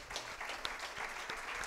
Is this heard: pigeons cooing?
no